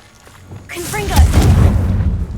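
Confringo fire-blast spell cast in Hogwarts Legacy, a loud booming burst that erupts right after a voice calls out, ringing into a rumbling tail.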